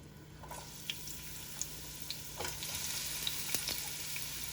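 Onions sautéing in two tablespoons of hot vegetable oil in a pan over medium heat, a steady broad sizzle with a few sharp pops and stirring scrapes, close and alone.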